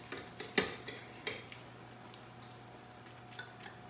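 Pasta stirred into a sauce in a pan gives soft sizzling with a few sharp spoon-on-pan knocks and scrapes, fairly close and quiet, no voices.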